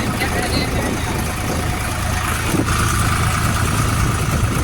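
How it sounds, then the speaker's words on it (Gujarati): A tractor engine drones steadily at a constant low rumble while the tractor is driven, with broadband road and wind noise and people talking over it throughout. "પહેલી વાર આખું મને ટ્રેક્ટરમાં અનુભવ લઈ રહ્યા છીએ ટ્રેક્ટર બહુ ફૂલ રાખે છે"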